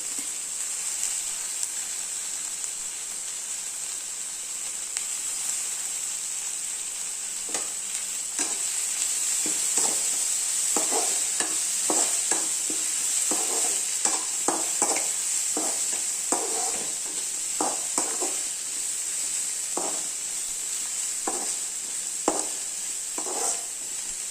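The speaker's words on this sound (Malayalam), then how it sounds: "കുറച്ച് ഉള്ളിയും കൂടെ വറുത്ത് നമ്മളിങ്ങനെ കോരി മാറ്റി വെച്ച്" Dried shrimp and onion frying in a pan, a steady close sizzle with a bright hiss running throughout, broken by repeated scraping stirs in the middle and later part.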